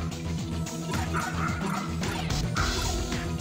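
A household dog yips and barks in short bursts with a few whimpers, nearby but mixed under loud retro PS1 role-playing game music.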